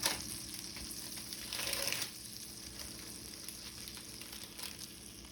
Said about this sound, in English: That first piece, you buttered, you're going to lay it down in your skillet.